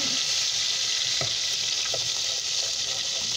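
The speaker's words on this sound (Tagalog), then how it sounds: "I just put a garlic, ginger, salt, and egg. And now I fry it now." Silver fish okoy batter with garlic, ginger, salt and egg frying in oil, a steady close hiss of sizzling with a few soft pops and stirring clicks.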